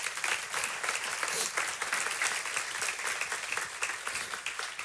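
Church congregation applauding during a Spanish-language sermon, a continuous even wash of many clapping hands, fairly soft and distant, filling the whole stretch without a break.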